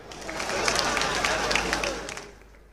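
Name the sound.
applause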